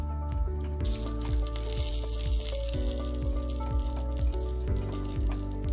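Tandoori chicken is basted with butter while it cooks, giving a continuous crackling sizzle with a steady tonal hum underneath and repeated soft sweeping sounds.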